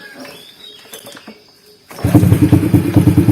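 A Honda Wave 100s built up as a motocross bike starts with a sudden catch two seconds in. It settles straight into a loud, close, chugging idle, after a quiet lead-in with faint chirps and small ticks.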